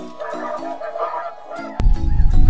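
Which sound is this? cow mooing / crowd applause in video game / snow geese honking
snow geese honking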